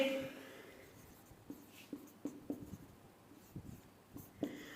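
Chalk or pen writing out fractions in descending order during a maths lesson, heard as a series of short, light taps and scratchy strokes in an irregular rhythm, close and fairly quiet, with no talking.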